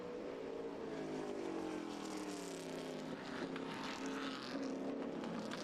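Shelby Cobra race cars, big-block 427 and smaller 289 engines, roaring downhill through the Laguna Seca corkscrew toward turns 9 and 10, a steady loud engine drone with shifting pitch and no pauses.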